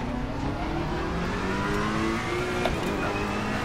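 Race car engine in the video game Assetto Corsa Competizione, a loud continuous drone with shifting engine pitch as the car brakes and slows, heard alone.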